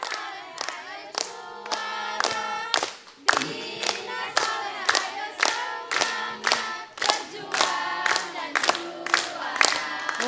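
A family performs a group cheer chant on a children's preaching-contest TV show, with rhythmic sharp claps punctuating loud chanted voices in steady repeated bursts throughout.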